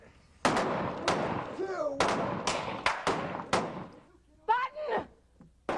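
A rapid series of loud gunshots rings out on the set of the Western film Open Range, with about eight sharp cracks in quick succession, with shouted voices between and after them.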